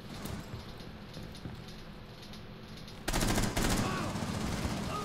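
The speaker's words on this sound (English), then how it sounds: "Oh, they're shooting at you." Gunfire in Rainbow Six Siege, with a steady bed of shots early on that turns into a louder, denser burst of rapid fire about midway and keeps going to the end.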